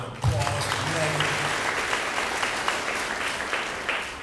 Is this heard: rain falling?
no